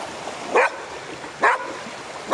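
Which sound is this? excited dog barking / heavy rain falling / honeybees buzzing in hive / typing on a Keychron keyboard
excited dog barking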